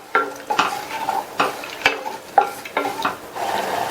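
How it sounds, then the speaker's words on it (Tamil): Jaggery dissolving in water as it is stirred in a pan on the stove, a series of sharp scraping strokes against the pan at an irregular rhythm over a soft sizzle, close and clear. "இந்த வெல்லம் நல்லா கரைஞ்சு வரட்டும்."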